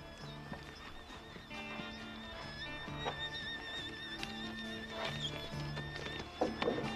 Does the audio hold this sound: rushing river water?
no